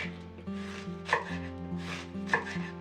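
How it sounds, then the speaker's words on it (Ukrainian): A knife cuts through late winter cabbage for a pepper marinade, in steady chopping strokes with sharper louder hits that recur about every second. Each blow is close and distinct over faint background hum. "Нарізаємо всю капусту"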